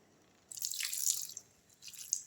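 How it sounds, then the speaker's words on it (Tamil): Half a tumbler of water poured into a pan of cauliflower thokku, a short splashing trickle with a pause and a second brief pour, quiet and close with no talking. "கொஞ்சமாக ஒரு 1/2 டம்ளர் தண்ணி ஊற்றுவோம்."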